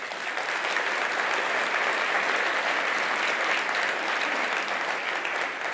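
A conference audience in Birmingham applauding, dense steady clapping from many hands that holds at an even level throughout, with no talk over it.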